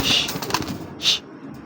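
Racing pigeons coo nearby in short soft bursts, with a faint background rustle and no talking.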